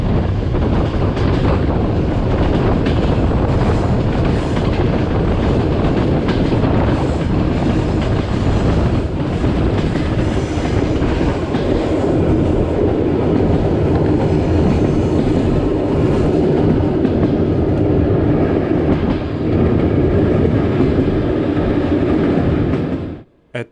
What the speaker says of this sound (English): At 10:56, the train arrives at Chum station where the Transpolar Main Line begins.